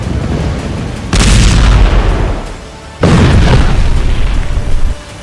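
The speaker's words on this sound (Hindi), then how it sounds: "हर मिनट इजराइल के रॉकेट हमास के किसी न किसी अड्डे को मिट्टी में मिला रहे हैं।" Rocket strikes explode in Gaza: two heavy, loud booms, each a sudden broadband blast that rumbles and slowly decays, the second landing about two seconds after the first, with no voices.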